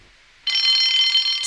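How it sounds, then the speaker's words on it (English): After a brief quiet moment, an electric alarm bell starts ringing loudly and continuously, a bright metallic trill. "Soon came the alarm"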